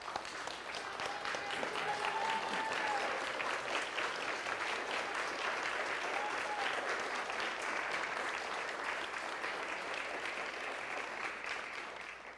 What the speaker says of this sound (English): I think we owe them a second standing ovation,